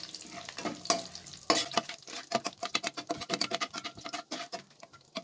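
Bay leaves and cumin fry lightly in hot oil, giving irregular crackling pops and spatters that come in quick bursts, fairly close and with no talking.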